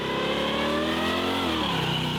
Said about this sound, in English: 1968 Chevelle, 383 stroker.